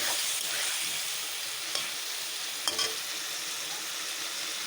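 Boiled potatoes sautéing in oil in a pan for a chana dal bora recipe, giving a steady close sizzle with a couple of brief spatula scrapes and taps against the pan.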